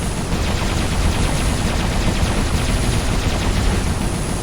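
Sustained, dense automatic fire from robot machine guns in the War Robots game, a loud continuous rattling burst with no pauses over the whole stretch.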